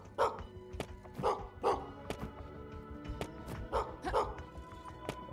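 A dog in a metroidvania video game barks repeatedly in short, punchy yaps, about five or six barks spread unevenly over several seconds, heard moderately close over low game background sounds and thumps.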